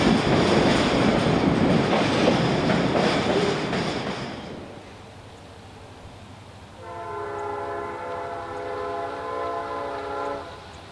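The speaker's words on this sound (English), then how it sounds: "A different pair of Illinois Central SD70s are getting their work cut out for them as they get another L537 up to speed." A pair of Illinois Central SD70 locomotives haul a freight train, starting with loud rushing wheel and engine noise that fades, then a sustained multi-tone horn blares from mid-distance.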